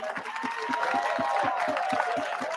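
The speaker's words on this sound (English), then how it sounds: "if you could give a round of applause to Bina Maseno" An audience at a live poetry and music concert applauds steadily, a dense wash of clapping with a regular rhythmic pulse and crowd noise, while voices and tonal sounds carry over it.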